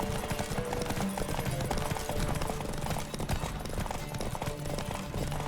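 Rapid, loud hoofbeats of galloping horses in The Witcher 3 pound continuously, with a busy, dense game soundtrack layered underneath.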